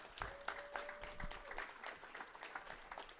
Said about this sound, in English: Please, let's get a round of applause for all those people